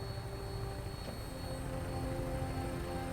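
A vertibird aircraft takes off in the video game Fallout 4, producing a steady, even engine and rotor drone that holds at a moderate level throughout.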